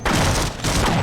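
Two rapid bursts of gunfire crack out loudly in the Half-Life game, close and reverberant, filling the moment with no voices.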